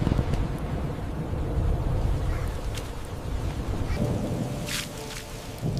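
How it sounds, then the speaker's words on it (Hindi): Heavy rain pours steadily and loudly, with low rumbling thunder running beneath it throughout and a few sharper crackles near the end. "अरे ये तो बारिश तेज होने लगी"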